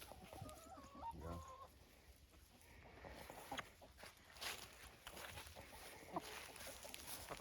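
Chickens cluck and squawk nearby in a garden in irregular bursts, with one hen's call standing out early, over quiet outdoor background noise.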